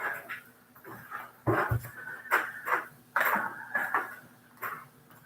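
A dog whimpers and whines in short repeated bursts, close by in a busy household, with clattering dish-like knocks between the whines and no talk.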